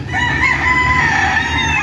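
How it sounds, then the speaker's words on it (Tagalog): Game fowl at a game farm in Montalban, Rizal, with a rooster's loud close crow rising and holding over a background of clucking chickens. "Ito po yung ibang mga manok nila dito."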